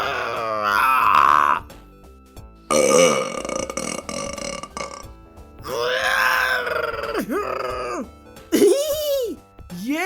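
A person lets out a series of loud, drawn-out burps, about five separate belches with short silent gaps between them, some deep and groaning and others rising in pitch.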